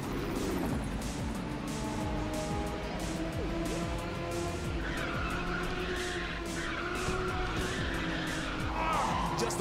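A race car drifts with nitrous in the Ridge Racer 6 video game, its tires squealing continuously over a steady engine roar for several seconds, loud and close, with a few sharper skids toward the end.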